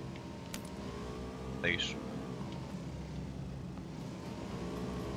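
A vehicle engine in PUBG, a squad-mode battle royale game, drones steadily and fairly loud throughout as players talk over it.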